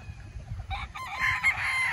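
A gamefowl rooster crows once at a game farm in Tanauan, Batangas, brief and at moderate distance over low background noise.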